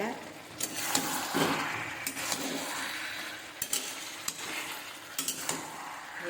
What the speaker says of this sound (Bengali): একটু জলটা শুকোলেই ভাজা হয়ে গেছে ডাটাও সেদ্ধ হয়ে গেছে